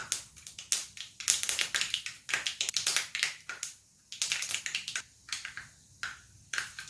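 Mustard seeds spluttering in hot coconut oil while tempering sambar: dense, irregular crackling pops and snaps in close, sharp bursts, with brief quieter gaps.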